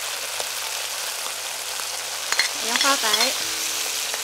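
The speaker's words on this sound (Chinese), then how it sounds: "然后放入我们的小米辣、泡椒，继续炒香。" Chili peppers and pickled peppers stir-frying in a hot pan give a steady sizzle with scraping stirs, while a brief burst of speech rises briefly near the end over the frying.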